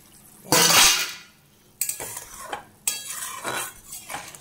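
A metal lid comes off a pot of spicy bhola fish curry with a loud clatter, followed by two sharper clinks and scrapes of a spoon stirring against the pot.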